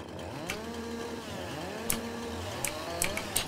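A chainsaw trimming branches off felled trees runs steadily at close range, its engine revving up and down in a continuous drone with short cutting bursts.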